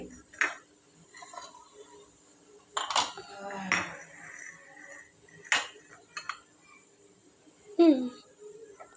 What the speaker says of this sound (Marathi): आता चहा गाळून घेते मी